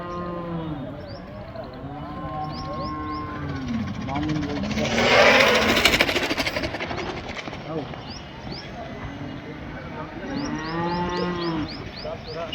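A calf moos repeatedly nearby at a cattle market, long drawn-out calls rising and falling, while people talk loudly around it and a vehicle rumbles briefly.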